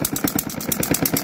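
A model diesel engine with true fuel injection runs on its very first start, a steady rapid mechanical chugging with even repeating pulses, close and moderately loud with no talking.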